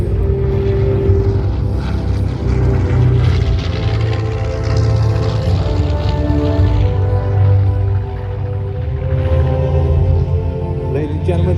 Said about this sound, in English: the B-25 Panchito